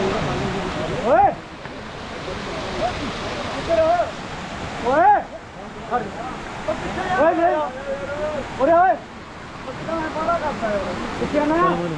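A mountain waterfall on the Kedarnath trek in Uttarakhand rushes as a constant broadband wash of water, with people talking over it intermittently throughout.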